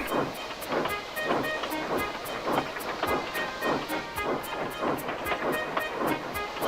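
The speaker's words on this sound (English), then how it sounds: "The heavy train drew out of the platform." A heavy steam train pulling out of a platform, its rhythmic chuffing and hissing repeating steadily with rail clatter, loud and continuous with no talk.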